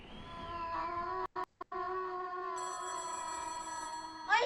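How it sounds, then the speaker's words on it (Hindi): A phone rings inside the horror video game Eyes, a sustained electronic tone with steady harmonics that cuts out twice briefly and then continues over a quiet room ambience. "फोन बजा किसी का, एक सेकंड।"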